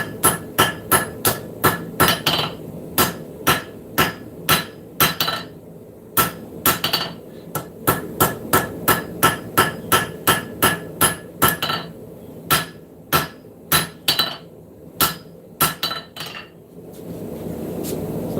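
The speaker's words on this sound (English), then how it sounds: "Using different hammers and things like that." A blacksmith's hammer forges metal on an anvil in the shop, loud ringing strikes in quick rhythmic bursts with short pauses between runs, continuing without any talking.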